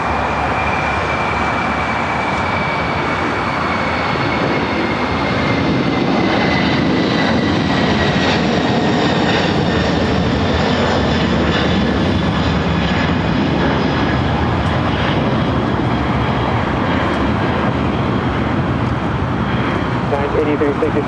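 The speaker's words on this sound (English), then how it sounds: "Air France, flight 25 heading back to Paris on the 777-300ER heading to the north side" An Air France Boeing 777-300ER jet at LAX produces a sustained engine roar that builds slightly and holds, with a thin whine running above the broadband rush.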